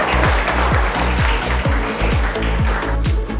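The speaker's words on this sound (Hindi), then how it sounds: "श्लोक पराते के लिए एक बार जोरदार तालियां" A crowd applauds a third-prize winner at an environmental awareness event. The clapping is dense and steady, and a regular booming bass beat runs underneath it for the whole stretch.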